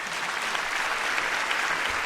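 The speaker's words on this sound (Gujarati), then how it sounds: "હો વાલાઓ, જોરદાર તાળી થઈ જાય." Parents in a school auditorium at the Akshar School Tarang 2024 event in Rajkot applaud loudly, a thick, sustained roar of many clapping hands that stays constant throughout.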